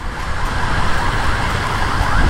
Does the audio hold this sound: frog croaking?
no